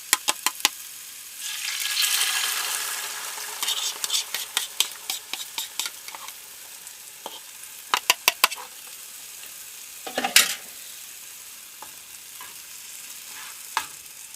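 Eggs frying in a hot pan seasoned with steak seasoning for scrambled eggs, a steady close sizzle broken by a run of sharp utensil taps and scrapes against the pan.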